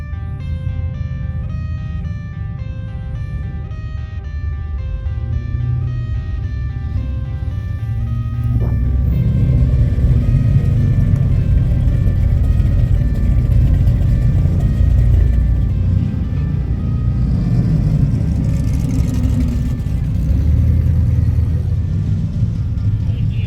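Cars drive away from the Hot Rod Power Tour at Monroe County Fairgrounds as a loud, continuous rumble of engines that swells after a few seconds, with tonal whine layered on top.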